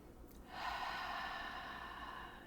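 Deep breath during a yoga class, a single long, fairly close exhale with a soft breathy hiss, swelling in and holding steady for about two seconds.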